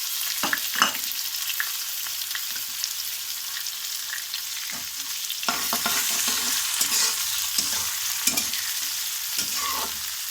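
Onions with green chillies fry in a pan for besan curry, a dense steady hiss broken by scattered stirring scrapes and pops, close and continuous with no voices.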